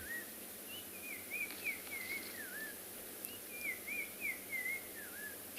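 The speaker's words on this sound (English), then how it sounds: "You can hear that bird so clearly." A black-crowned tchagra calls on a sunset safari in the African bush, two runs of clear, warbling whistled phrases rising and falling, moderately distant over steady background hiss with no voices.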